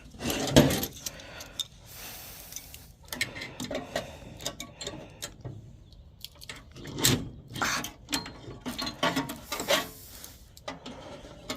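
Metallic wrench clicks and scraping on an old 1969 Sears snowmobile engine, close and intermittent, in irregular bursts of ratcheting and rubbing with brief pauses between turns.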